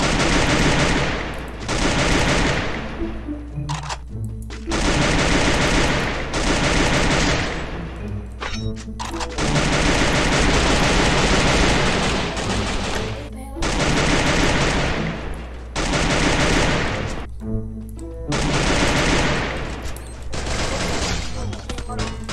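Rapid bursts of automatic gunfire in the Free Fire battle royale game, loud and close, firing in long sustained volleys broken by brief pauses, with no talk over them.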